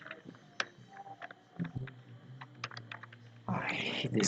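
Someone types on a computer keyboard while coding in Java: quiet, irregular key clicks and taps at close range, ending in a brief flurry of rapid keystrokes.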